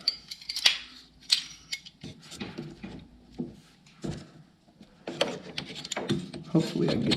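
PEX pipe being trimmed to length in a log cabin, heard as a few close crisp snips and clicks of a cutting tool amid handling noise and some low talk.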